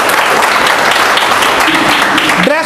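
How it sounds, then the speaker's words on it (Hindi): A training seminar audience breaks into loud, dense clapping that carries on steadily throughout, with a brief voice or tone rising near the end. "एक बार जोरदार ताली बजाइए"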